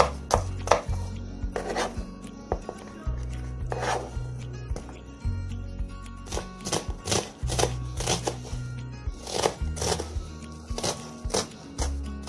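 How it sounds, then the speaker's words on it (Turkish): A knife chops peppers rapidly against a cutting board in quick bursts of sharp taps, close by, with no one speaking. "Biberlerimi de doğradım."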